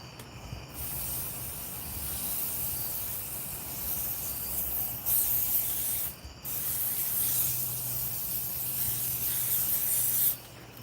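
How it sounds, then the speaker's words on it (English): Long continuous aerosol hissing from a can of bug spray, broken by two brief pauses and cutting off near the end. "Bug spray time."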